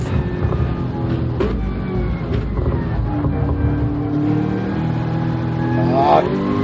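Racing car engine in a video game pulling through a dipper in second gear on an MR car, a steady sustained drone with small pitch shifts and a brief rise near the end.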